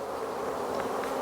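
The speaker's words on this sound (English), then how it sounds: "the bees" Honey bees buzz steadily and closely during a hive inspection at a Norfolk apiary amid a comb change, a dense continuous drone with no voices.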